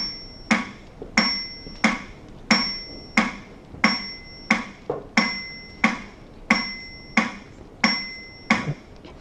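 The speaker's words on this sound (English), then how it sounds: "the traditional RAS use metronome as a stimuli" Metronome ticking steadily, about one sharp click every 0.65 seconds with a bright ringing ping on each beat, close and alone with no voices.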